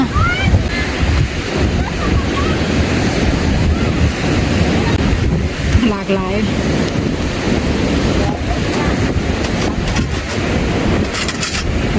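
Strong sea waves roll onto the beach at Ban Krut in Prachuap Khiri Khan, a constant heavy surf roar with wind buffeting the microphone, while someone talks over it.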